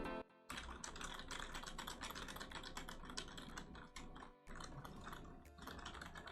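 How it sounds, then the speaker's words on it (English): Rapid clicking of a computer keyboard, typed continuously with brief pauses, picked up by a TONOR TC20 microphone hovering just above the keys; close, crisp and fairly quiet, with no voices. "Let's go ahead and see how much keyboard clicking this microphone actually picks up"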